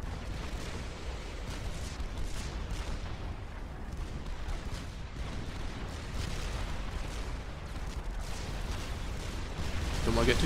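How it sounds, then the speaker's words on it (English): Mobile missile launchers firing in the real-time strategy game Supreme Commander 2: a dense, continuous barrage of launches and distant explosive thuds rumbles throughout, growing louder toward the end, with faint voices in the mix. "Here comes the mobile missile launchers. And there go the mobile missiles."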